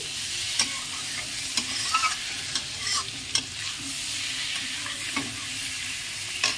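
Fish fries in a pan with spice paste, a soft steady sizzle broken by repeated light scrapes and clicks of a spatula stirring, with no voices.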